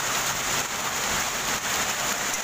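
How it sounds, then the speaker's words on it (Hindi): Hail falls on a street and on parked cars in Delhi, a dense, steady, hissing patter that stays constant and fairly loud throughout with no voices. "ये देखिए मेरे हाथ पर भी आगे गिर रहे हैं ओले"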